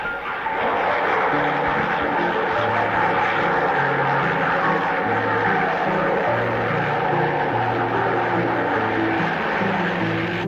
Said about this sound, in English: Every day a helicopter delivers the state papers to the Britannia.